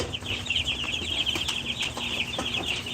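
Baby meat chicks in a brooder peeping constantly, a dense close flock of high, rapid chirps that overlap without pause for three seconds, with a faint steady hum underneath.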